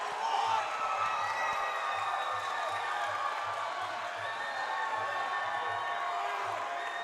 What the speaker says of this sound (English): Crowd's going nuts here at the Broad Street Ballroom.